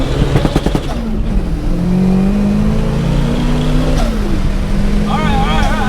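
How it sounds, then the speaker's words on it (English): A 600-horsepower right-hand-drive Nissan S15 with a VVL SR22 engine accelerates hard. The loud, close engine note climbs and swells steadily, with a voice briefly audible inside the cabin. "you drive a high horsepower right-hand drive car and it's an S15"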